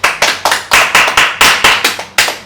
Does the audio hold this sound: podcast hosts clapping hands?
yes